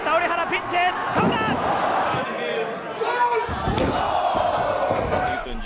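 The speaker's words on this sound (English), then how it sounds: "The crowd here chanting." A wrestling crowd chants and roars through a Jushin Thunder Liger match, loud and continuous, with commentators talking over the noise throughout.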